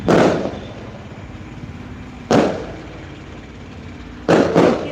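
Three sharp firecracker bangs, one at the start, one in the middle, and a quick double crack near the end, each with a short rumbling decay.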